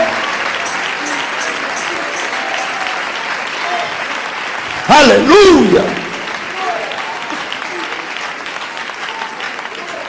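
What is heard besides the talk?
applause of praise in church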